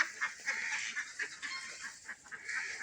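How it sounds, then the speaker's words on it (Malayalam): Ducks on a mixed farm with buffalo and cattle, a flock quacking in repeated nasal bursts at moderate distance, overlapping calls coming and going across the whole stretch. "അതിനുള്ളിലൊക്കെ കയറിയിരിക്കുന്നുണ്ട് കുറേ താറാവുകൾ"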